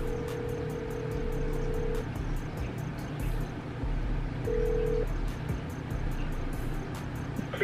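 A phone call rings out in long steady ringback tones, one burst then another after a pause, over the constant rumble of a car interior with a faint rhythmic ticking throughout.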